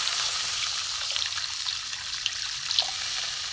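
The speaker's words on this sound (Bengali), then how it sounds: "এবার আমি জল দেবো।" Water is poured into a pan of spice paste frying in oil, giving a steady hiss and sizzle with faint crackles, close and fairly quiet throughout.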